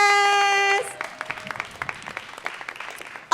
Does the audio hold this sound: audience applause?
yes